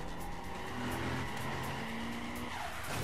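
A car in the video game Battlefield Hardline skids with a long tire squeal under a steady engine roar that stays fairly even throughout and sits faint in the mix.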